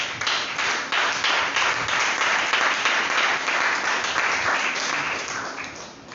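A church congregation applauds the Lord during a sermon, a dense, steady wash of many hands clapping that carries on for several seconds, fairly distant and tapering slightly at the close.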